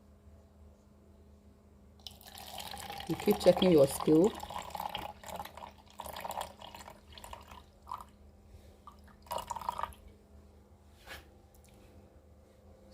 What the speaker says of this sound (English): So I measure my water.